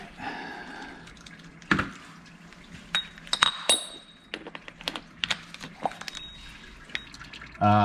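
Engine oil draining from a Porsche 911 (997) during an oil change, heard as scattered drips and light clinking close by, with a few sharper metallic taps and no talking.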